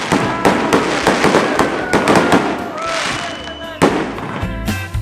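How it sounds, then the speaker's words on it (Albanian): Fireworks at a finale show at Illyrian Castle in Albania crackle and bang in rapid bursts, loud and close, with sharp pops following one another over a steady crackling background. "shfaqja finale me fishek zjarre"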